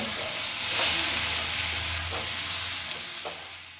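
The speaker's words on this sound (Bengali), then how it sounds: "দিয়ে দিলাম উপর থেকে ধনেপাতা, ভালোভাবে নাড়িয়ে নেব" Cabbage curry sizzles in a pan as coriander leaves are stirred in, a steady close frying hiss with a few soft scraping strokes of the spoon.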